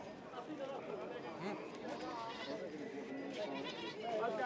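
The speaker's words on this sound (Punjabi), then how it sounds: "ਡਬਲ ਹੱਡੀ ਦੀ ਬੱਕਰੀ।" Goats bleat repeatedly at a village livestock sale while a crowd of people chatters and talks close by throughout.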